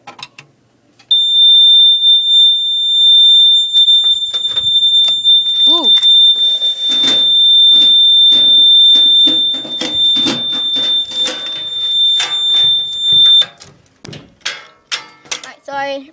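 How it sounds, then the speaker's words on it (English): A loud, steady high-pitched smoke alarm tone sounds continuously for about twelve seconds during a fire alarm system test of a System Sensor i3 detector, with clicks and a voice briefly heard underneath, then cuts off. "go ahead and quickly test the smoke detector"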